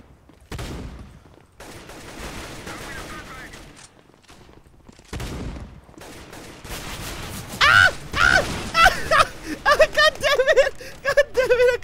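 Bursts of rapid gunfire from Counter-Strike: Global Offensive gameplay, crackling in clustered volleys that grow louder and denser toward the end, with talk heard between shots.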